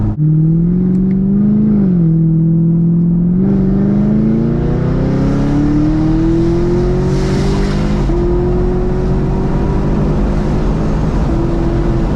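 A performance car with NPP active exhaust valves open in track mode roars steadily as it accelerates through the gears, engine note climbing in long pulls with brief shift breaks, loud and close with wind rush.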